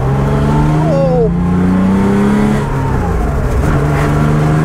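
A classic car's engine, newly fitted with a 123 electronic ignition distributor, revs loudly and steadily up close, its pitch rising and falling with the throttle, while someone speaks briefly over it.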